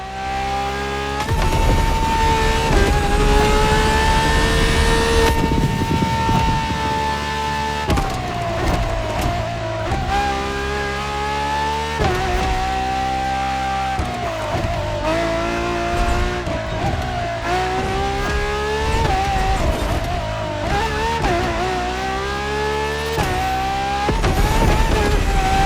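Ferrari LaFerrari hybrid supercar engine racing in The Crew Motorfest, loud and close, with a constant high revving wail that climbs through the gears, dips briefly between shifts, and surges again without pause.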